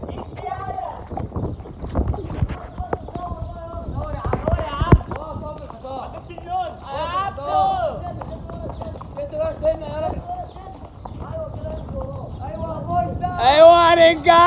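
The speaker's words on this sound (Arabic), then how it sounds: "حصان يا جدعان" Rhythmic clip-clop of horse hooves at a quick pace under loud, excited shouting and chatter from several people outdoors at the Giza pyramids.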